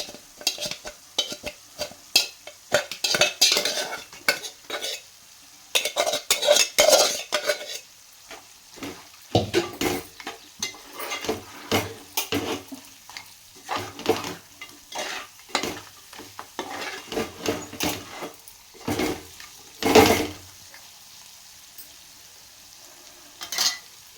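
Mutton bones being stirred into reddened frying masala in a pot, a spoon scraping and clattering in repeated bursts over a low sizzle, close and steady for a long stretch.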